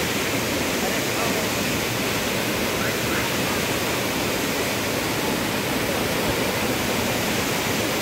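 Mandakini waterfall near Nathula Pass roars in a steady, loud, broadband rush of falling water that fills the whole stretch without a break.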